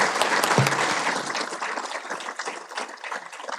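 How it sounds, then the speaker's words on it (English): An audience at an annual meeting gives a round of applause for the drivers, with brisk, closely packed clapping that is loud at first and then gradually thins out. "Please have one more round of applause for our drivers."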